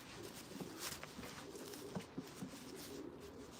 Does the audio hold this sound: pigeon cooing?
yes